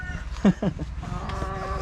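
Chickens cluck in their pens on a poultry farm, with a couple of short, close clucks early on over a steady low background hum and farm noise.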